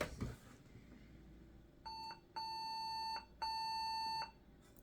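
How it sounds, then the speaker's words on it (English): An old Compaq computer beeps at power-on during memory troubleshooting: a short tone followed by longer, fainter steady beeps after a moment of quiet room noise. "Same beep again."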